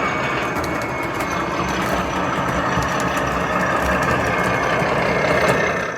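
Steady, dense engine drone from an O gauge DCC model diesel locomotive, a continuous loud rumble with a slight swell toward the end, no talking.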